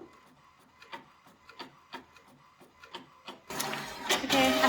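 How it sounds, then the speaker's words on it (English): An inkjet-style home printer prints pages in a run of rhythmic mechanical clicks and whirs, then a louder, denser feed and grinding burst at the end, close by with no talking. "My printer is going crazy"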